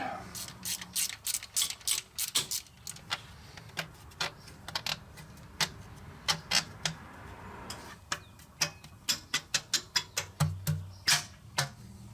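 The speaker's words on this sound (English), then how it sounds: "run a tap chaser in here" A tap chaser works the threads of a bolt hole in an engine block on a 1980 Ford F-350 service truck, making a run of sharp ratcheting clicks, close and irregular, with brief pauses.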